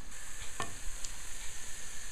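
A pancake fries in a pan, with a steady, even sizzle and a couple of faint utensil scrapes against the pan, close and with no talk.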